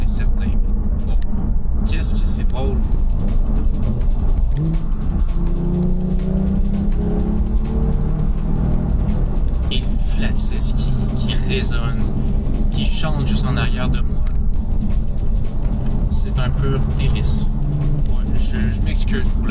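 A 2024 Porsche 911 Targa revs hard with automatic rev matching, its engine rising and falling in repeated sharp blips heard from inside the cabin under constant road roar, with someone talking over it.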